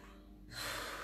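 A single sharp inhale during a yoga session, a close breath drawn in through the nose and rising to a steady airy hiss.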